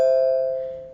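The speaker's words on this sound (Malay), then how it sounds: "Apabila loceng pintu ditekan," A single doorbell chime rings out once, bright and clear, then decays steadily over about a second with nothing else heard.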